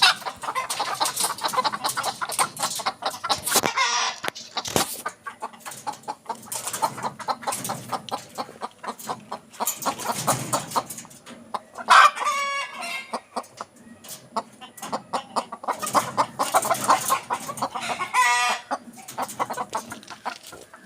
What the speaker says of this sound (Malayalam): കോഴികൾ കൂട്ടിൽ കയറേണ്ട സമയമായപ്പോൾ